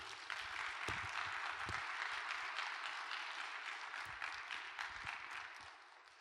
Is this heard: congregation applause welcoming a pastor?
yes